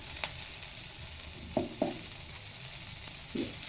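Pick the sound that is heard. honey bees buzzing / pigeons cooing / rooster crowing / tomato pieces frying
tomato pieces frying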